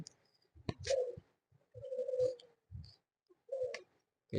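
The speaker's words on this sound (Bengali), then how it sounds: "কতগুলো কবুতর দেখলাম" Pigeons coo in several soft, low bursts with short pauses between them, fairly close in an otherwise quiet setting.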